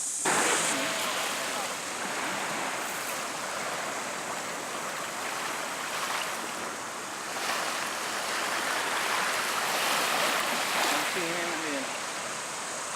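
Steady broadband wash of surf breaking at a beach, continuous and fairly loud throughout, with faint voices briefly in the background.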